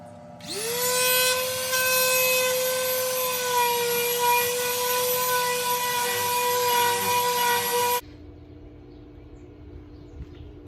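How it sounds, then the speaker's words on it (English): An electric sander starts up on a wooden dresser and runs at a loud, steady whine for about eight seconds, then cuts off abruptly and leaves faint room noise. "And I just bought this sander, and I have no clue what I'm doing."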